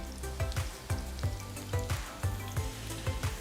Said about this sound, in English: So once it stops sizzling, just gently remove it from the oil.